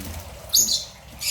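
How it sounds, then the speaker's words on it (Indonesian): A long-legged stilt bird with red legs, black wings and a white breast calls in an aviary, giving a brief, sharp high-pitched chirp and then another short call over a low background rumble. "Burung kakinya panjang, namanya gagang bayam"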